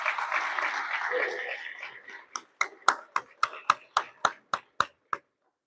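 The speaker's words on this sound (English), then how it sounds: "can we give Sarah a round of applause, please?" Audience at a psychiatry residency graduation ceremony in Montana applauding: a dense wash of clapping for two seconds thins into a string of evenly spaced single claps that stop abruptly.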